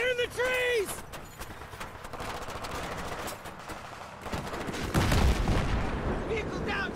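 Gunfire from a Battlefield 3 ambush, with dense bursts of automatic fire and scattered shots crackling through the whole stretch and a heavier volley near the end, under intermittent voices.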